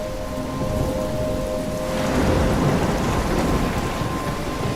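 A video-game storm from Life Is Strange: heavy rain pours steadily while low thunder rumbles underneath, the downpour swelling slightly midway, loud and continuous with no voices.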